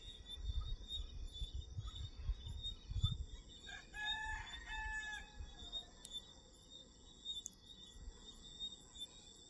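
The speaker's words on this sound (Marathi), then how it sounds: "कोंबडे आरवलेला आवाज आला" A rooster crows at a distance around the middle, faint against steady insect chirring and low rumbling background noise, just before five in the morning.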